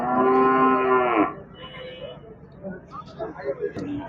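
A loud, close calf moo with a clear harmonic tone lasts just over a second at a Chakan cattle market, followed by quieter background voices and movement.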